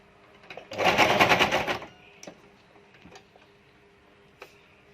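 A sewing machine stitching a homemade fabric mask, one short close burst of rapid mechanical stitching for about a second, followed by quiet handling clicks.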